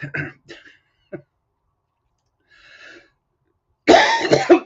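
Several separate coughs from a person with a nasty cold come in short bursts with pauses between, ending in a louder, harsher coughing fit close to the microphone.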